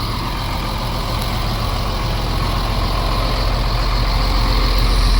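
A Cummins diesel truck engine that sat unused for years idles steadily after its first start, a loud, close, continuous rumble with a constant mechanical hum and no voices.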